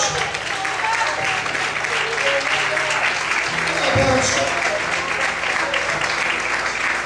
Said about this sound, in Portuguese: Todos podem aplaudir e glorificar a Deus.